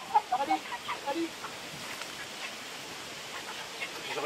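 Chickens and a rooster cluck in a backyard permaculture garden in Aulnay-sous-Bois, with a burst of clucks early on that fades into quieter, distant calls and outdoor ambience.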